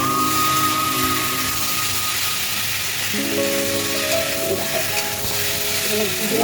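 Fish jhol made with rui or bata fish simmers on the stove with a steady, loud steamy hiss and faint bubbling, while voices and tones sound in the background.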